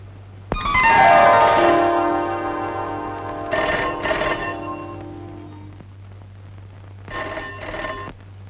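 An old-style telephone bell rings in two bursts, a long loud ring followed by a pause and a shorter ring, then a third brief ring, close and clear with a steady low hum underneath.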